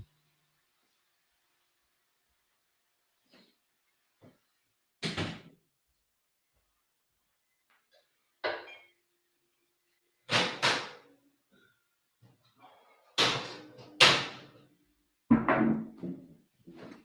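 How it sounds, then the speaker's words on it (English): A door being closed indoors, heard as several separate knocks and thuds spread across a quiet room, a few faint ones early and firmer bangs and rattles toward the end. "I'm going to close the door now."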